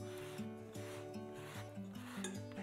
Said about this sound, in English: I'm using my microplane zester here.